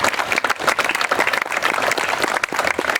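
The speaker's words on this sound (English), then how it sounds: "Let's give a round of applause to those who have served and sacrificed for this nation and our liberty." A crowd at a mayor's award ceremony and ribbon cutting in G.A.R. Memorial Hall applauds veterans, dense steady clapping filling the room at close range without pause.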